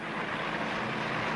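An airplane engine drones in a steady, even hum with a low tone under a broad whooshing wash, continuous and unbroken, in a scene from the animated Tintin adventure The Black Island.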